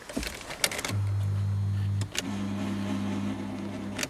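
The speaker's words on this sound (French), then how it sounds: "On entend juste le pignon du démarreur, mais j'ai l'impression que il n'est pas engagé sur la couronne, donc résultat il tourne dans le vide" A car's starter motor on a wrecked Volkswagen Polo whirs steadily as its pinion spins freely without engaging the ring gear on a flat battery, two close, loud bursts separated by a short pause, with faint clicks around them.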